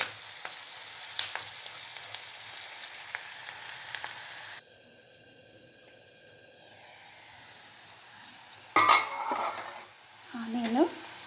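Onions frying in a pan for a home-cooked curry, with a sizzling hiss and spoon stirring against the pan at first. After a brief quieter stretch, louder scraping and clattering of utensils break in near the end.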